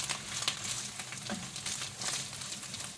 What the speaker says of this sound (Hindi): अब मैं इसके अंदर मैरिनेट किया हुआ बीफ शामिल कर रही हूँ और इसको अच्छी तरह फ्राई कर लेंगे गार्लिक के साथ